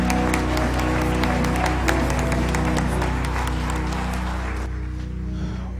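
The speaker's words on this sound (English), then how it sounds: "let's give the Lord a hand clap of praise." Dense clapping from a crowd, steady and loud throughout over a low hum, thinning slightly near the end.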